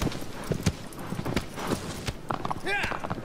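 Hooves clip-clop in a quick uneven rhythm, mixed with a short horse whinny near the end, close and moderately loud, in the video game Shadow of the Colossus.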